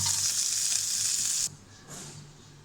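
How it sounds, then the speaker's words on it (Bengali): An onion fries in oil with a bright, loud, steady sizzle that cuts off abruptly partway through, leaving a quieter softer hiss and faint stirring sounds. "এখানে তেলের সাথে পেঁয়াজটাকে ভেজে নেব"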